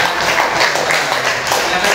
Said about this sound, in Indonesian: tepuk tangan juga untuk kelompok 2 ya